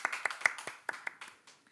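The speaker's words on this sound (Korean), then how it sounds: "격려의 박수를 한번 해드리겠습니다" Members of a congregation at a Sunday church service clap in encouragement for the young people: a short run of about eight sharp, separate claps, fairly faint and fading.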